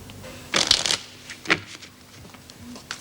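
A deck of playing cards being shuffled in a women's prison cell, with a sharp riffle burst near the start and a shorter one after, then quiet handling noises.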